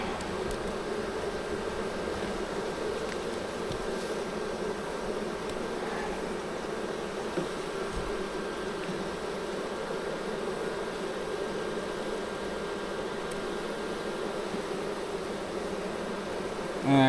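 Honeybees buzzing steadily in an opened hive with propolis-sealed frames, a dense continuous drone close by that holds at an even level throughout, with no talk over it.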